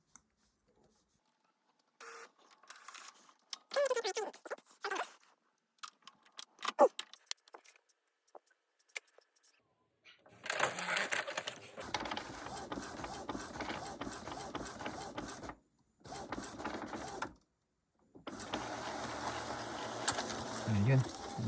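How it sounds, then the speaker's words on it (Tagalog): Inkjet printer being test-printed after being pulled out for a blank-page fault, whirring and clattering mechanically in bursts near the mic, with brief pauses between passes; a person talks over parts of it. "Mag-test print tayo para makita ninyo."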